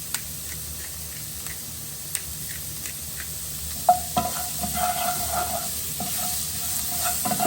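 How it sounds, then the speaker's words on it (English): Vegetables seasoned with pepper sweat and sizzle in a pan, a steady low frying hiss with occasional stirring clicks and scrapes, close and moderately quiet with no talking. "Just let those sweat and develop a little bit of flavour."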